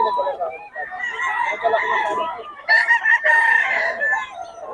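A sweater gamefowl rooster crows loudly and close at a farm, two drawn-out cock-a-doodle-doo calls in a row with some clucking and faint background voices.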